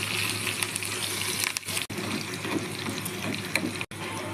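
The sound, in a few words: water poured into hot tempering in a pan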